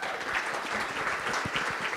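Brief, steady burst of dense clapping from a seated audience at a panel forum, moderately faint and continuous through the whole moment with no voices on top.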